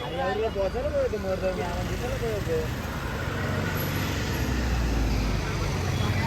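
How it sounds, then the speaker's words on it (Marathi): Heavy road traffic stuck in a jam, a steady roar of idling cars and engines close by, with people talking over it throughout. "जामच ट्रॉफिक आहे"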